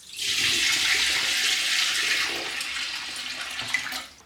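Leftover beer is poured off a settled yeast cake while harvesting homebrew yeast: a steady, close splashing rush of liquid that runs for about four seconds and then tails off.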